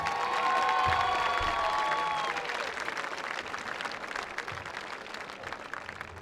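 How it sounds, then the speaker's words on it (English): A large high school football crowd applauds steadily, with cheers and whistles rising early before the clapping settles into a dense, continuous patter. "please give one more round of applause"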